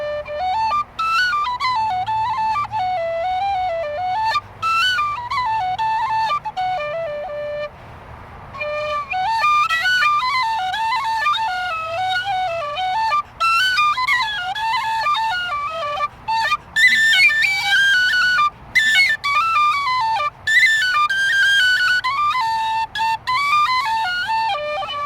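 A Generation D tin whistle plays a long, lively melodic tune with quick runs and ornaments, bright and close, with a brief pause partway through and no talking.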